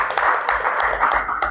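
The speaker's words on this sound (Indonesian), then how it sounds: "Kita kasih tepuk tangan untuk Pak Indra Adil." An audience applauds an honoured senior guest, Indra Adil, at a book talk: a short, steady burst of many hands clapping, moderately loud and close, with a few sharper claps standing out.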